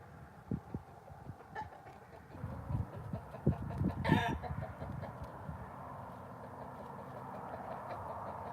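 Chickens in a pen, clucking and scratching close by in irregular bursts, with busier activity in the middle and a low background hum throughout.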